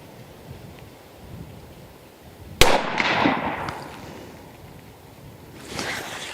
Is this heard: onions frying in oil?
no